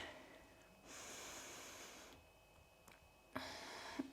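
Breath drawn in during a yoga core flow, a soft steady airy inhale lasting about a second, then a second breath with small clicks and rustle toward the end, close and quiet with no talk.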